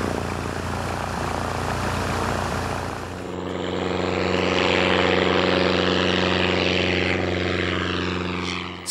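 A propeller airplane flying over Costa Rica, its steady droning engine hum holding loud and close, with a rising whine of the propeller swelling midway, no voices present.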